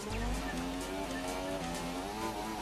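In the F1 2017 racing game at Monaco, a car stuck against a wall gives a steady, strained engine drone with scraping tire noise, fairly quiet and continuous.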